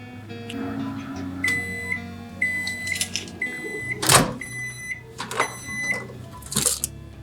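A microwave oven on its defrost setting hums steadily, with a few electronic beeps and some nearby handling noises and rustles, and no one speaking.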